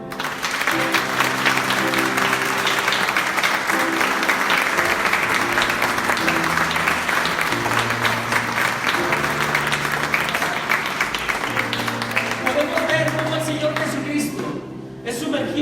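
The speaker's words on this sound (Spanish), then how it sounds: "Denle un aplauso al Señor." A church congregation breaks into loud, sustained applause. Many hands clap continuously over a steady musical backing with voices, and the clapping thins out near the end.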